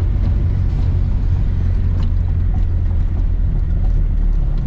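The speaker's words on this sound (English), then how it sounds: "So the car definitely is struggling for traction, but even when it hooks," A BMW race car accelerates hard while struggling for traction, giving a steady, loud engine rumble that runs unbroken throughout with no clear gear changes.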